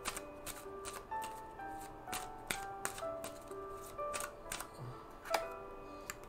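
Soft, quick ticking and riffling of cards being shuffled, a steady patter of small clicks close by, with faint tonal hum in the background.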